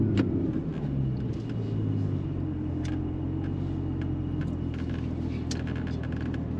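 Porsche Cayman GTS with a PDK gearbox driving around town, its engine a steady close rumble from inside the cabin with no clear hard acceleration, plus a few faint clicks over the drone.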